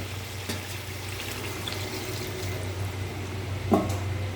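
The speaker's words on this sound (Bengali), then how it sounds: "এবার আমি দিয়ে দেব জল" Water poured into a pot of meat browned with green peas, a steady, continuous rush of liquid at moderate distance with a faint splash near the end.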